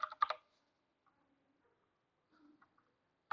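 Code typed on a computer keyboard: a few quiet, sparse key clicks in short bursts separated by pauses, close and soft.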